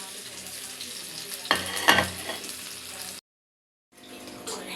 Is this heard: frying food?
yes